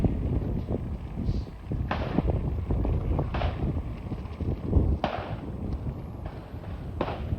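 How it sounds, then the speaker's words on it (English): Gunshots ring out outdoors as several sharp broadband cracks spaced irregularly over a steady wind-buffeted background, each fairly loud with a short decaying tail. "Notice the gunshots."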